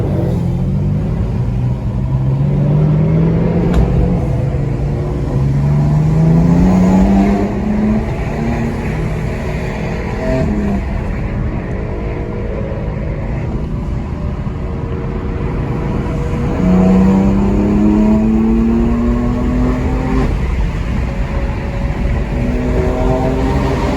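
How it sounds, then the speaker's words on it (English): More than a hundred cars from a car-season kickoff meet rev up a highway on-ramp, with loud, close engines rising in repeated acceleration sweeps over a continuous low rumble of traffic. "There's probably over 100 cars all getting on the on-ramp right now."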